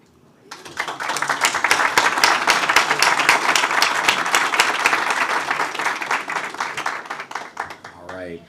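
An audience at a Maryland State Board of Education meeting applauds the Teachers of the Year with sustained, dense clapping that builds quickly, holds steady and tapers off at the end, with a voice briefly heard as it fades.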